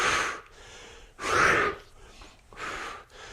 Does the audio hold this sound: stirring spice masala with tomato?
no